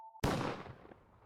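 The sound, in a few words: gunshot sound effect echoing from outside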